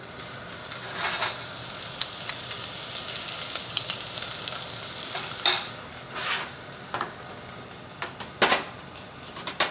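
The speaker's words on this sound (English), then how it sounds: "Onion goes in, followed by garlic." Chopped onion and garlic frying in a pan of oil for mutton rolls, a soft continuous sizzle broken by scattered scrapes and clicks of stirring.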